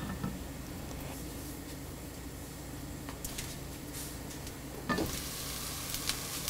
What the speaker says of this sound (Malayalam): ഇനി നമുക്ക് മീൻ മുട്ട അടച്ചു വെച്ച് വേവിക്കാം.